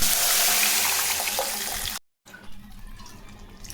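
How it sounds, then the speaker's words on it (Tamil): Mashed cooked lentils (dal) pour into a hot pan for tomato dal kuzhambu, a loud, rushing liquid pour for about two seconds before cutting off into quieter kitchen background. "கடைஞ்சி வச்ச பருப்பு ஊற்றி"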